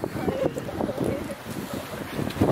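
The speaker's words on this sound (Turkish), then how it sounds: "nasıl bok gibi rüzgar esiyor" Strong, cold wind buffets the microphone outdoors in Thailand, producing loud, uneven rumbling gusts that swell and fade continuously.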